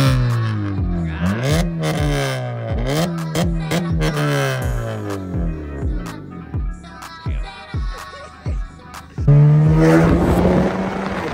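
A mostly stock car with a diverter valve and small carbon pieces up front revs hard in repeated rising sweeps, each falling away with valve chatter, loud and close, with gusty wind noise later.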